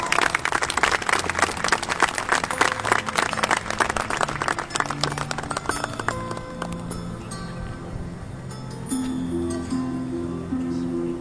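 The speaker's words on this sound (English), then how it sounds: "Can we have a huge round of applause?" A Republic Day school ceremony audience gives strong applause, a dense wash of clapping that fades out about halfway through, followed by quieter room sound and a few soft tones.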